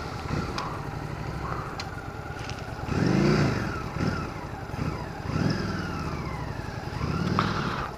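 A heavy motorcycle engine runs nearby, rumbling steadily and revving up and down in several swells, with no voices.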